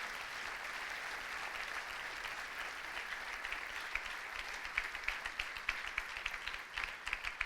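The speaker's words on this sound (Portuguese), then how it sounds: "Pode aplaudir sim ao Senhor" A church congregation claps in steady, continuous applause at a distance, with sharper individual claps growing more distinct toward the end.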